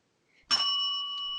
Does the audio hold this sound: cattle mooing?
no